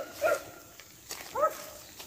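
A pack of hunting dogs turned loose in wet woods after heavy overnight rain, on a paca hunt; two bursts of barking from a few dogs, fairly near, with quieter rustling between.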